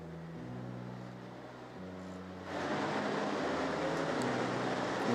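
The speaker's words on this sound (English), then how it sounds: "Can hear some engines firing up, so hopefully that means we've got some karts making their way out onto circuit." Rotax Max racing kart engines fire up at a winter cup meeting, with low droning engine tones shifting pitch before a louder, denser rush of engine noise swells midway and holds, heard from some distance.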